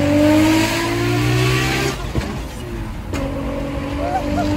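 A 1000-horsepower Nissan Skyline GTR engine revving hard and loud up close, holding a high roaring note, dropping briefly, then climbing again with whining harmonics.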